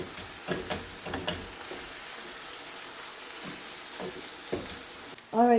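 Hamburger meat sizzles steadily as it sautés in a pan, broken by several scraping stirs and spatula taps, ending in a brief louder clatter.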